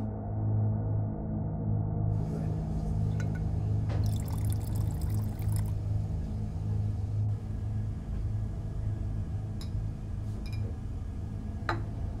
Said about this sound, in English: when I pour the water in, it will turn purple.